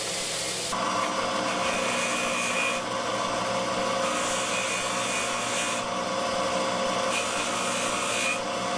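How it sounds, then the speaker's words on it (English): Continuous rough rasping of sandpaper on a wooden wedge set in razor scales, repeating in long even strokes with brief pauses between passes, close and loud, no voices. "I'm sanding the wedge flush with the scales now."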